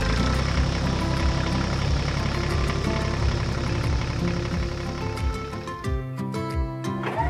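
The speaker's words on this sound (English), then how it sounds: "A red tractor connected to a special trailer for transporting bales." A red tractor pulling a large bale-transport trailer has its engine running steadily and loudly at close range, a continuous low rumble with a rhythmic throb that eases slightly near the end.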